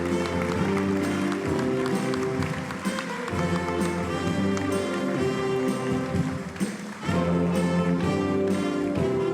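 An audience at a 2025 New Year's wishes ceremony in Valognes applauds steadily with dense clapping throughout, blended with sustained music in the background.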